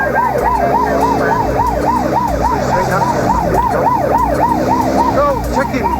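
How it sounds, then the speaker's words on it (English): A police traffic car's siren wails loudly and close by, a fast repeating up-and-down sweep held steady throughout over engine and road noise. "they'll see the traffic car with the siren and the blue lights flashing"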